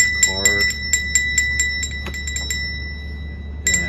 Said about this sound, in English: so the user will ring the bell